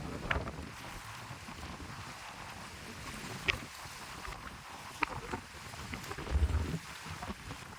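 Wind buffets the microphone over a steady wash of rough sea and boats off El Nido, Palawan, Philippines, with occasional knocks and a low thump near the end.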